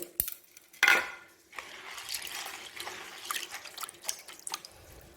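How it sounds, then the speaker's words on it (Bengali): Chana dal put to soak in water in a kitchen: a sharp clink and splash of grains and water hitting a bowl, followed by soft trickling drips and light container rattles; no voices. "সেই জন্য ছোলার ডালটা ভিজতে দিচ্ছি সারা রাত ডালটা ভিজবে"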